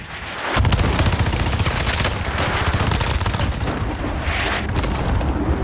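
Sustained loud gunfire from a first-person shooter video game, rapid automatic bursts rattling continuously after a brief quiet start, with explosion-like booms mixed into the dense barrage and no talking.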